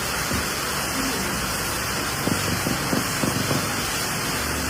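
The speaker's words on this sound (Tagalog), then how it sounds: "Walang tigil ang ulan." Heavy, unceasing rain pours down as a loud, steady wash of noise throughout, with faint background voices and a few soft knocks.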